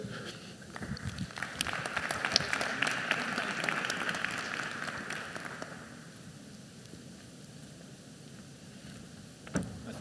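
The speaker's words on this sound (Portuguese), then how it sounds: "Uma salva de palmas para eles." An audience at a Portimão 2019 sports ethics event applauds as guests are invited onto the stage. The clapping is dense and steady for about six seconds, then fades to quiet room tone, with one brief knock near the end.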